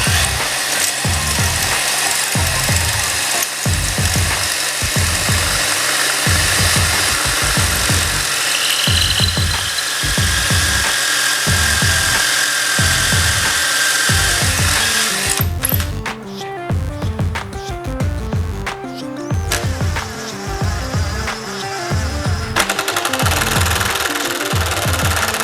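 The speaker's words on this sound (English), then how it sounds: "So we'll go ahead and drill this now." A power drill bores into a chair leg through a Kreg pocket-hole jig, running in loud, pulsing grinding bursts for about fifteen seconds, then shifting to a lighter, rattling whir with intermittent higher squeals.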